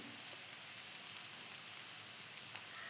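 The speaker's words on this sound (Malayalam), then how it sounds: "ഉള്ളി കുറേശ്ശെ നല്ലോണം വഴന്ന് വന്നു. അപ്പോൾ ഞാൻ ഇതിന് വേണ്ടുന്ന മഞ്ഞൾപ്പൊടി, മുളക് പൊടിയെല്ലാം ഇട്ട് കൊടുക്കട്ടെ." Sliced onions sautéing in a pan with turmeric and chilli powder, making a steady, soft sizzle and crackle that stays even and fairly faint throughout, with no one talking.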